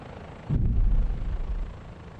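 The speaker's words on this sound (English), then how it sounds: "Auto rotation that we did not plan." A simulated helicopter autorotating after losing rotor RPM in Microsoft Flight Simulator 2024, giving a low, loud rumbling whoosh that swells suddenly and holds steady.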